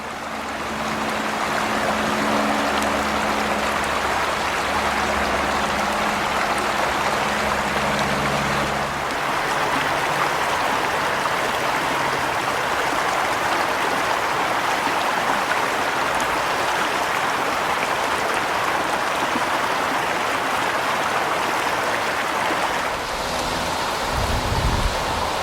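Boulder Creek flowing steadily in autumn, a continuous broadband rush of water with a low engine-like hum in the early seconds and a brief low rumble near the end.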